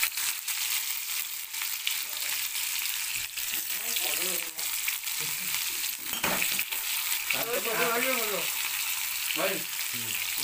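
Cumin and onions frying in a pan for egg bhurji, a constant loud sizzle filling the whole stretch, with brief faint voices or clinks surfacing over it in places.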